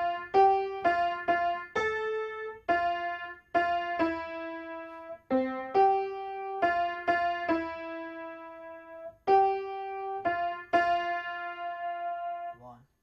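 The CM Punk WWE entrance theme is played on piano from the beginning through the vocal melody, with clear single notes and chords in a steady rhythm, close and unaccompanied.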